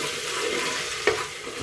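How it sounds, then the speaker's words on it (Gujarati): A spoon stirs salt into tikha bhaat in a pan over a steady soft sizzle, with one brief scrape standing out near the end. "હવે થોડુંક હલાવ્યા બાદ જો હું હલાવી નાખું છું."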